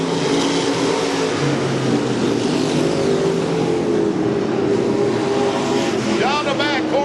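Pure stock race cars roar around the I-55 Raceway dirt track in a heat race, a dense, continuous pack of engine noise at close range, with a race announcer calling the action over it.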